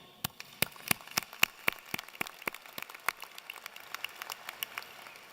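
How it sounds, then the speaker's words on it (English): Scattered, sparse handclaps from a graduation audience at an engineering college ceremony, fairly distant and faint, a few dozen sharp claps that thin out over about five seconds. "Give yourself a round of applause"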